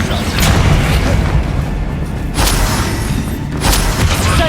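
Bombarda blasting-spell explosions in Hogwarts Legacy: loud booming bursts land roughly three times over a constant rumbling combat din.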